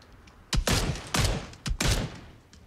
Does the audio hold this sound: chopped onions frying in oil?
no